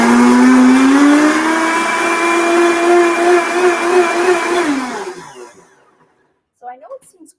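A kitchen blender purees potato for an oil-free, nut-free vegan ranch dressing. The motor whirs loudly with a rising pitch for about five seconds, then winds down to silence, followed by a few faint clinks.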